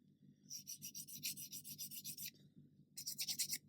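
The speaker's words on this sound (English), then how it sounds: "Go in with my 1000 grit just to finish that off." Fine 1000 grit sandpaper rubbed over a seam on a 1/72 Airfix Fairey Rotodyne plastic model kit, giving quick rhythmic rasping strokes, close and steady, with a short pause before a final burst.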